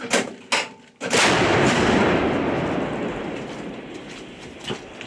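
A few sharp knocks, then a single huge artillery gun blast during combat in Serebryansky forest booms and rolls away in a long, slowly fading echo.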